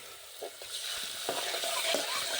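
Gujarati tempering (vaghar) for sev tomato curry sizzles steadily in a pan, with a few soft stirring knocks and scrapes over a continuous close hiss; no talking.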